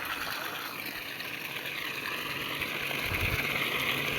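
Water pouring from farm pump pipes running on low voltage, a steady rushing flow with a faint hiss, heard without speech and swelling slightly toward the end.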